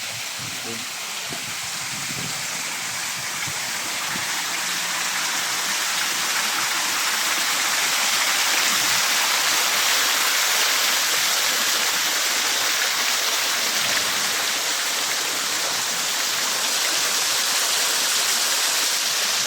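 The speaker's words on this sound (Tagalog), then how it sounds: "Punta tayo din sa kanilang munting falls." A small waterfall at Caleruega in Nasugbu, Batangas rushes in a constant loud broadband roar, steady and close, filling the whole stretch with dense hissing water noise and no other sounds standing out.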